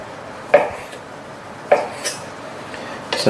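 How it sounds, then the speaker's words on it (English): A knife cuts chicken pieces into even sizes for a Thai basil and mint stir fry, giving three sharp, isolated clacks of the blade against a board, close up over quiet room noise. "I'm going to cut these pretty much all the same size so they cook"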